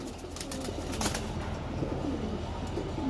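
Cooing from a loft of old-breed pigeons, steady low murmuring calls over a dense, continuous background with faint flutters, no speech.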